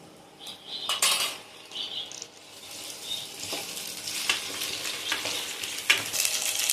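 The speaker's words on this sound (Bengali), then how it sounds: "চামচ মতো আদা পেস্ট দিয়ে দিলাম।" Ginger paste fries in a hot pan for chilli chicken, a steady close sizzle under repeated scrapes and clinks of a spoon stirring against the metal, with no talking.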